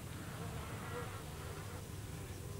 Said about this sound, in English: As bees fly from flower to flower, they carry the sticky pollen with them